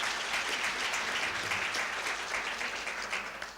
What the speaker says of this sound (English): Let's give a round of applause to my panelists.